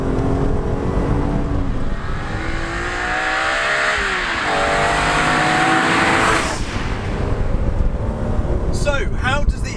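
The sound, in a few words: sports car engine revving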